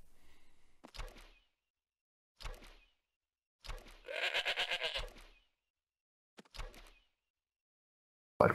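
Sheep in Minecraft bleat in short separate bursts spaced by silence, one longer wavering bleat in the middle, each call clear and fairly close with no speech.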